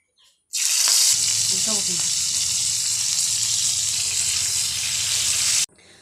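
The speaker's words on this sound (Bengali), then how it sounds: "ফ্রাই প্যানে তেলটাও গরম হয়ে গেছে আমি একটা একটা করে মাছগুলো দিয়ে ভালো করে ভাজা করে নেব" Tiger prawns rubbed with salt and turmeric drop into hot oil in a frying pan, bursting into a loud, steady sizzle that holds for several seconds before cutting off abruptly.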